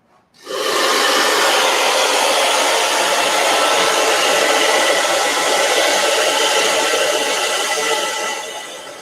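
A hair dryer blows hard and close up, drying plaster on a model railway embankment. It switches on abruptly to a loud, steady roaring whoosh that holds for about eight seconds, then begins to fade slightly.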